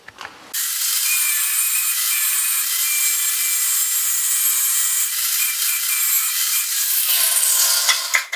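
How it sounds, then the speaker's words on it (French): Steel tube being ground or filed on its back end, a loud continuous abrasive rasping hiss that holds steady for about seven seconds and then stops. "on va donner un petit coup de lime, de meuleuse sur l'arrière du tube de façon à le faire redresser"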